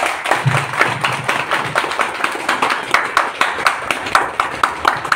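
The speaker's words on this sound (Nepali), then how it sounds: "ताली बजाउन कोसिस गर्नुहुन्छ।" A small audience claps together in a steady rhythmic beat, close and moderately loud, with no voices over it.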